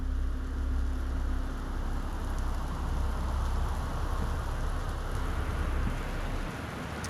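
Steady rain falls continuously outside, a dense hiss with a low rumble underneath, with no voices, in the video game Gone Home.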